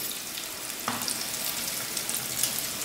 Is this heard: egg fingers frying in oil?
yes